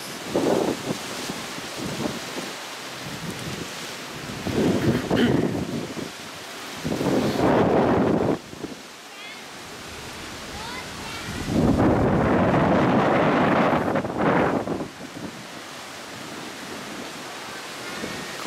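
Strong wind at the seaside in Atami in April buffets the microphone in loud, roaring gusts that surge and drop away several times, with calmer stretches between them.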